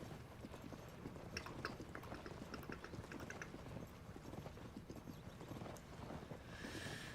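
Horse hooves clip-clop at a steady walking rhythm in Zelda: Tears of the Kingdom, a horse pulling a load through the game world, with faint game ambience around the repeated hoofbeats.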